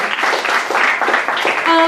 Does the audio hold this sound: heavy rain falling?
no